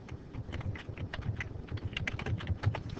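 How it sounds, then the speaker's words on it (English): Typing on a computer keyboard while entering labels into an Excel spreadsheet: a steady run of soft, close key clicks. "So I'm just going to type in"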